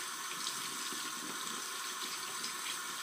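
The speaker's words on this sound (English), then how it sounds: "I have to rinse this off" Tap water runs in a steady, continuous rush as something is rinsed off under the faucet. It is close and fairly loud, with no talking.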